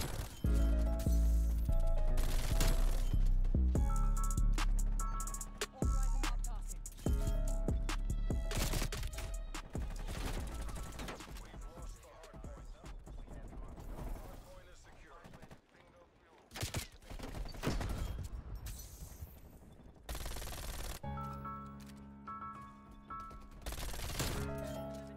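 Constant gunfire from a Call of Duty match, including hand cannon pistol shots among dense overlapping bursts and crashes, loud and sustained with brief lulls, while game sounds and speech mix in beneath.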